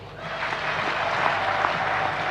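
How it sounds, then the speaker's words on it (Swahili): An audience applauds for President Samia Suluhu Hassan at a health minister's address, producing a brief, moderately loud wash of clapping with a few sharper individual claps. "Naomba tumpigie makofi."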